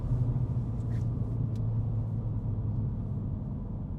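A 2025 MINI Cooper John Cooper Works hardtop (F66) accelerating hard during a 0-60 mph test, heard as a steady, loud low engine and road rumble that holds throughout without talk.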